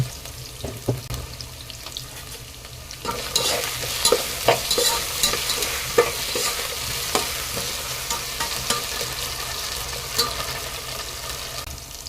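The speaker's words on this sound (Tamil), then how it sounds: "ஸோ உருளைக்கிழங்கு ஆட் பண்ணிக்கலாம் தேவையான சால்ட்டை ஆட் பண்ணிடலாம்" Potato pieces fry in a pan and are stirred, giving a steady sizzle broken by repeated scraping knocks of the spoon, close and clear with no talk.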